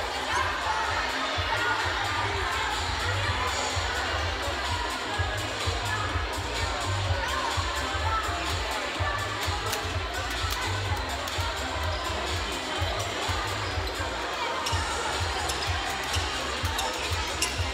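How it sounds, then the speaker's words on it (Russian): Crowd applause and cheering at an award ceremony for silver medalists, a long steady wash of clapping with shouts and children's voices mixed in, loud and continuous throughout. "Аплодисменты серебряным призерам"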